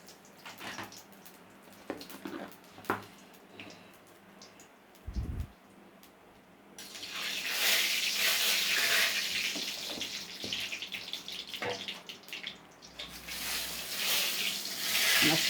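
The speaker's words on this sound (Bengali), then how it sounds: "আমার শুকনো লঙ্কা রাঁধুনিটা ভাজা হয়ে গেছে।" Dry red chilli halves and radhuni seeds fry in hot oil for a tadka. A few soft clinks give way to a steady, loud sizzle that fills the second half, with no talk.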